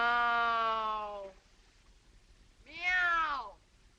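A person's voice imitates a cat meowing, with two loud, drawn-out meows separated by a short pause, the second rising then falling in pitch.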